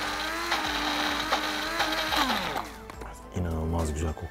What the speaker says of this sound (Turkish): Yine blenderdan geçiriyoruz.